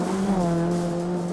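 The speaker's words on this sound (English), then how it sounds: "Rev it up, rev it up." A car engine revs loud and close during a club rally round, holding a steady, droning tone over the brief stretch without any voices.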